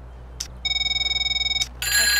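A mobile phone in Grand Theft Auto 5 rings with a rapid, pulsing electronic trill of evenly spaced beeps, loud and close, framed by short game interface sounds.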